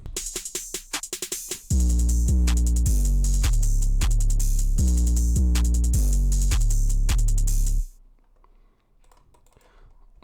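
Drum pattern of a produced, energetic beat playing back: repeated loud kicks and snares with steady hi-hats running for about six seconds, then cutting off abruptly to near silence.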